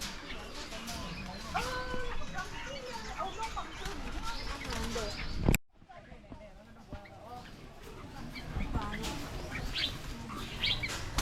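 A water hen (moorhen) calls among other chirping birds at a wildlife breeding station, its sharp calls mixed with people talking nearby, broken by a brief loud knock midway.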